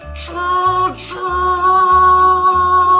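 The Boilermaker Special drives past close by, making a loud, steady mechanical drone with a low engine throb and high whine, pulsing in regular bursts.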